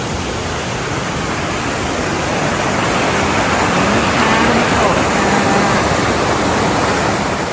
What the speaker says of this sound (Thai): ได้ยินเสียง ได้ยินเสียงน้ำตกคนขา